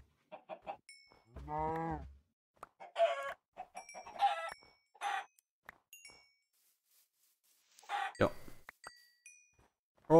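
Chickens clucking in a video game, a few short bursts of fowl calls scattered across the clip with quiet gaps between them, moderately close and alone without talk.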